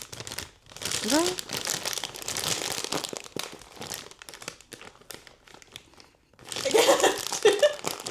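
A stubborn plastic snack bag is crinkled and crunched in the hands as someone struggles to open it, with bursts of crackling near the start and again louder toward the end, mixed with voices and giggles.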